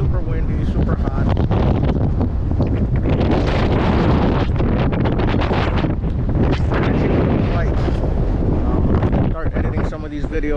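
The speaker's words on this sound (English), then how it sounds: "It's super windy, super hot." Strong wind buffets the microphone at a small fishing pier in Corpus Christi, Texas, a loud, continuous roaring rush with gusty surges throughout, close and dominant.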